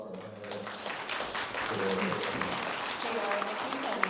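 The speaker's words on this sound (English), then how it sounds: "Please a round of applause for our panel." Audience applause for a panel at a wildfire preparedness session on forest health, a steady wash of clapping from a seated crowd lasting several seconds, with some voices mixed in.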